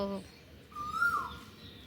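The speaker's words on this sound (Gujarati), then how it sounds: "તો બસ તો બચારી કોયલ બોલે છે યાર" An Asian koel calls once near a village on a hot evening, a single rising whistled note against a soft, steady background hum.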